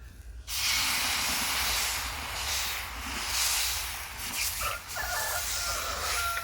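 A ladle of egg paratha batter hits a hot pan, and after a brief quiet moment a loud, steady sizzling hiss starts and carries on close-up, with slight swells and a small dip midway.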